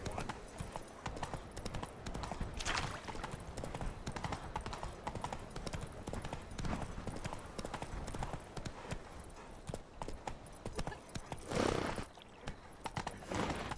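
Hoofbeats of Roach, the horse in The Witcher 3: Wild Hunt, clip-clop steadily throughout with a brief whinny, under ambient game sound and occasional muffled talk.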